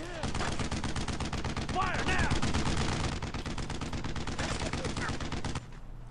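Sustained machine gun fire in the World War II game Brothers In Arms Road to Hill 30, a continuous rattling burst near and loud, with shouted voices and whistling sounds over it before it cuts off.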